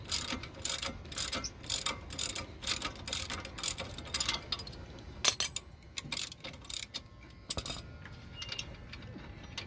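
Wrench ratcheting on a strut bolt of a 2005 Toyota Prius, rapid bursts of close metallic clicking in uneven runs with short pauses between strokes.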